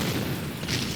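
A mortar round bursts in the war video game Men of War: Red Tide, a short, muffled low boom with a rumbling body and no voices.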